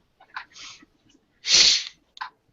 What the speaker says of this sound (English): It wasn't a sneeze, it was a snort.